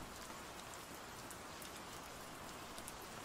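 Steady, dense rain pours down in the Lost Shipwreck game, a constant hiss of drops striking surfaces. It stays even and unbroken throughout, with no talking.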